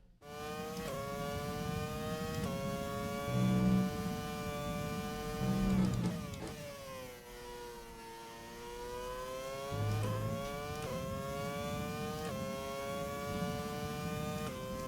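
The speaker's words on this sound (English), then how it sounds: "turn it up a bit more so I can actually hear the engine over me talking" A Formula 1 car engine from the F1 2020 racing game revs and shifts through gears, its high whining tone climbing and dropping in repeated sweeps, steady and fairly loud with no talk over it.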